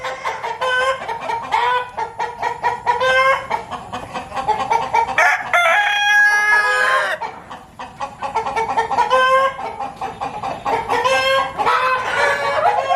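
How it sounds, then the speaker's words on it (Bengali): Hens cluck steadily throughout while a rooster crows loudly near the middle on a large poultry farm in Lodhasuli, a busy, close chorus of poultry with no voices. "মুরগির ডাকে মুখরিত"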